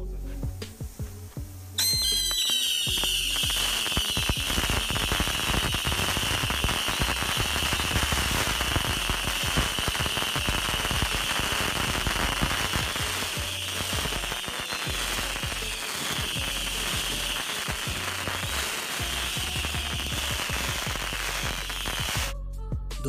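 Thousands of Diwali firework rockets ignite at once, a dense roaring crackle of whistles and bursts that starts abruptly and continues loud and sustained throughout.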